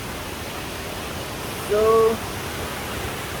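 Badalgiri waterfall, a two-level falls, gives a steady broadband rush that holds evenly throughout, with a brief spoken word partway through.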